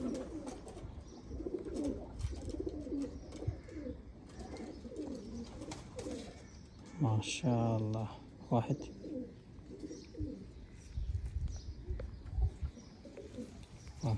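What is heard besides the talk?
Sithwala teddy pigeon cooing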